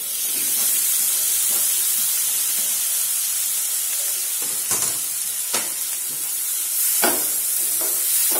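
Tomatoes hitting a hot pan of stuffed tinda (round gourd) bring a steady loud sizzle and hiss, with a few sharp clattering stirs or scrapes near the middle and end, no talking.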